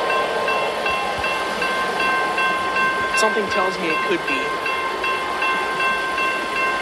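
A Union Pacific intermodal freight train, locomotive UP 2638, rolls past the Massingale Road crossing with a steady close rumble and sustained horn-like tones, while a person speaks briefly nearby.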